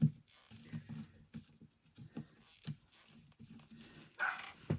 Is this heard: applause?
no